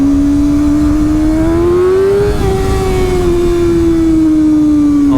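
A Kawasaki ZX6R inline-four with a LeoVince exhaust holds a loud, sustained high-rpm rev, the pitch climbing smoothly, peaking midway, then easing slightly while staying near and intense.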